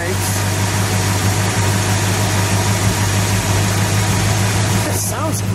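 A barn find 1970 Plymouth Superbird, parked since 1975, running at a loud, steady, rumbling idle close by, with a deep constant drone throughout and a brief chirp near the end.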